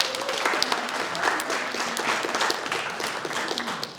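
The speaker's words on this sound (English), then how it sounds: "So give Stuart a round of applause." An audience at a bike story night on the UT Austin campus claps for an incoming speaker: steady, dense applause with many hands, moderately loud and continuous for the whole stretch, with no talking over it.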